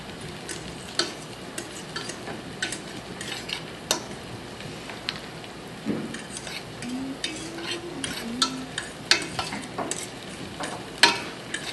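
Food fries quietly in a pan with a soft, steady sizzle broken by frequent clicks and scrapes of a utensil stirring, close by and with no voices.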